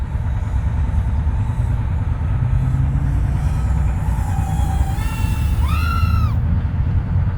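An Armattan Tadpole FPV drone on T-Motor 1103 motors and props flies nearby with a continuous high buzzing whine, its pitch rising and falling in sweeping bursts as it throttles up and turns, heard alone.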